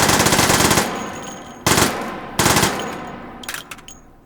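Bursts of automatic gunfire from a cursed burst-fire gun in Hot Dogs, Horseshoes and Hand Grenades: a long loud rattling burst, then two short sharp bursts and a few faint clicks of the mechanism.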